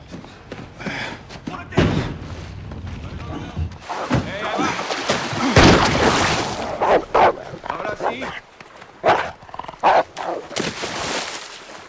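A dog barks and yelps repeatedly during a tense chase scene in the 2007 film No Country for Old Men. The barking is mixed with thuds, slams and rushing action noise, and loud bursts recur throughout.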